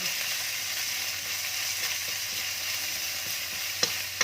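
Chili and garlic stir-frying in a pan over low heat, a steady close sizzle with a faint hum underneath and two sharp utensil taps near the end.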